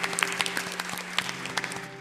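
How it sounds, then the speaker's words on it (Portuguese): Church congregation applauding during an evening worship service, a thin, distant wash of scattered clapping with a steady hum beneath, fairly faint throughout. "vamos aplaudir aquele que é digno de toda glória, toda honra e todo louvor"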